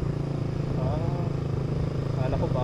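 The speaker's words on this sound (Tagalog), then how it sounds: "Ang dami motor dito." Several motorcycles rumble past at close range during a summer ride toward Bitbit River, a steady engine drone with rising and falling whines, while people talk over it.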